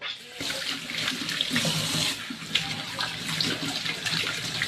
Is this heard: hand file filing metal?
no